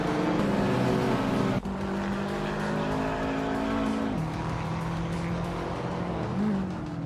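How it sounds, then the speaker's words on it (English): Several game racing cars, one of them a 1998 Toyota Chaser, roar steadily at high revs with sustained engine drone, a sharp shift or bump partway through and tire squeal near the end, loud and continuous with no talking. "is racing a 1998 Toyota Chaser"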